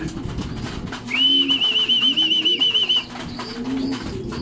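Racing pigeons at their loft after a 109 km training toss give a steady, warbling coo lasting about two seconds, with quieter bird sounds and soft background noise around it and no talking.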